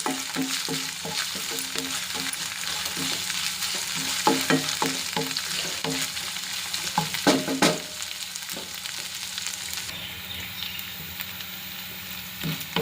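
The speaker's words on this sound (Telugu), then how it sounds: "అల్లం వెల్లుల్లి పేస్ట్ పచ్చివాసన పోయేదాకా కలుపుకోవాలి మంచిగా వేయించుకోవాలి" Ginger garlic paste frying in oil in a kadai, a steady sizzle under repeated rhythmic scrapes and knocks of a spoon stirring against the pan, close and moderately loud.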